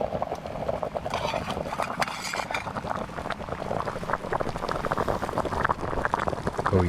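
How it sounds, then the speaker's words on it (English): Kimchi stew with trout bubbles in a pot outdoors, a steady close rumble of boiling broth mixed with wind noise across the microphone, with no talk. "gonna heat it back up to a boil and eat it"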